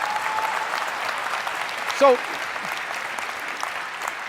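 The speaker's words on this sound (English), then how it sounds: "good, I got applause." Audience applause at a science lecture on morality, a steady wash of clapping across the whole stretch, with the lecturer briefly speaking over it.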